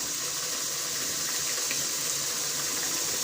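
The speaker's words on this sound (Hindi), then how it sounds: "थोड़ी सी मिकदार में इसमें हम चनों का पानी ऐड करेंगे।" Chickpea cooking water pours steadily into a masala for a white chickpea curry, a continuous hissing splash with no pauses and no talk.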